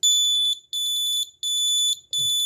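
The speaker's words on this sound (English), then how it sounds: "Alarm also on." A shrill electronic alarm from a coal mine safety monitor triggered by temperature sensor data beeps in four rapid bursts, each a quick string of piercing tones separated by short gaps, loud and close.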